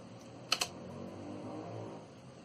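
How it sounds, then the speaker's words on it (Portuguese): Two quick plastic clicks of a key being pressed on a computer keyboard, close and crisp, against a quiet room hum with no talking. "Eu vou bater aqui no teclado, aqui no Enter"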